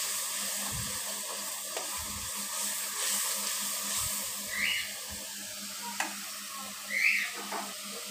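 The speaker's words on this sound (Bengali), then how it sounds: "মশলাটা আমি একটু ভালোভাবে কষিয়ে নিচ্ছি" Spice paste of turmeric and salt fries in oil in a pan for a Bengali fish curry, a continuous soft sizzle with occasional stirring scrapes and a few brief bubbly spits, no talking.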